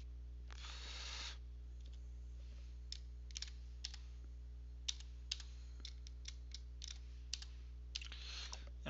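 Someone types on a computer keyboard in a quiet room, with sparse, soft, close key clicks and a few brief rustles.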